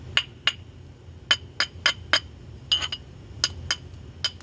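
Sharp glassy clicks and chinks, a dozen or so in uneven bursts, as the edge of a glass piece is struck and chipped by knapping close by.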